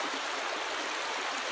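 A river flows steadily past a snowy backyard, a constant broadband rush of water that stays even and unbroken throughout, close and fairly loud.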